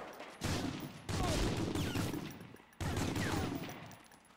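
Sustained bursts of automatic gunfire in the Medal of Honor Frontline video game, three long volleys of rapid shots with brief gaps, loud and dense, with no talking.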